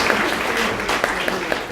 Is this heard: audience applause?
yes